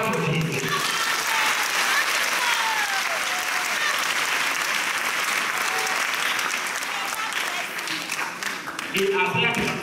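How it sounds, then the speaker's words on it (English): A church congregation claps loudly and continuously for nearly ten seconds, a thick, even roar of many hands, with a voice briefly audible at the start and end. "Clap for Jesus."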